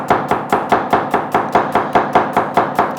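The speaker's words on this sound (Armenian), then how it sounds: "Սոխը պարտադիր շատ մանր պետք է կտրատվի։" An onion being finely chopped with a knife on a board: a loud, close, rapid run of even, regular chopping strikes about five per second, with no talk.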